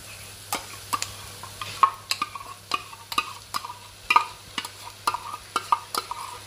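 Onions browning with ginger-garlic paste for a Jaffna-style Sri Lankan mutton curry are stirred briskly, a quick irregular run of sharp spatula clicks and scrapes against the pan over a low steady sizzle, close up and with no talking.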